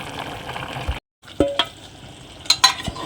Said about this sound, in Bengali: ভালো করে কষা হচ্ছে মাংসটা